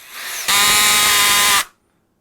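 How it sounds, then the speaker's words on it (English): A power drill with a slip clutch whirs up to a loud, steady, high-pitched whine for about a second after a quieter lead-in, then cuts off abruptly into silence. "And that was the drill, not me."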